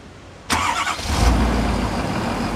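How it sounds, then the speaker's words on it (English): A Ford F450 pickup's engine cranks and catches after a remote start, a sudden loud burst settling into a steady, close idle with no talking. "remote start the truck and see what happens"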